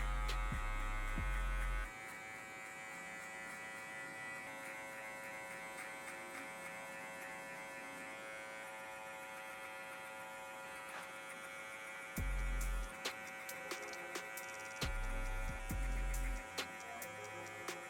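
Electric hair clippers fitted with a number 1 guard buzz steadily while cutting hair during a mid drop fade, with a constant close hum and a few short bumps and pauses.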